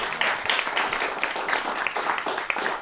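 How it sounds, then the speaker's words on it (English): An audience claps for a performer at a concert of dramatic music, a close, lively patter of many hands with distinct individual claps, sustained for a few seconds. "Give Bob a round of applause"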